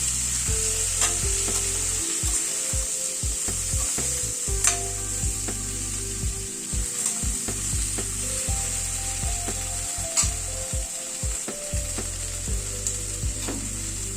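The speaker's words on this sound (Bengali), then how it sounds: "নুন হলুদ দিয়ে সবজিগুলোকে একটুখানি কষিয়ে নেব।" Mixed vegetables with salt and turmeric fry in a hot pan, a steady sizzle broken by repeated scraping and knocking as a spatula stirs them.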